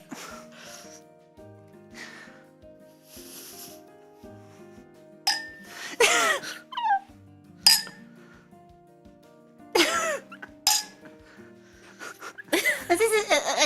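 Glasses clink together again and again in a playful back-and-forth, with sharp ringing taps scattered among voices and bursts of laughter.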